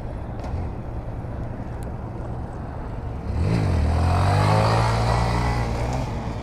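A Honda Grom motorcycle engine rises sharply in pitch and volume midway as it revs hard through a wheelie, holding a loud buzzing drone after a quieter steady run.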